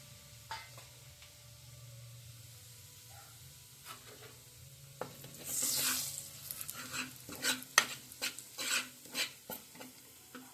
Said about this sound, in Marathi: आपण आता मसाले भाजून घ्या तेलामध्ये